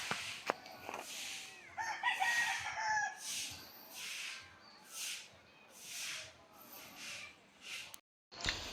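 Roosters crow again and again while chickens are kept in a rural yard that is being readied as their new home. The long calls come in a steady series over background clucking and ambient noise, fairly close and loud.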